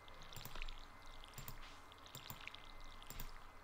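Watering crops with a watering can in the farming game Stardew Valley, a quiet run of soft splashing, dripping squishes repeating every second or so against a faint background hum.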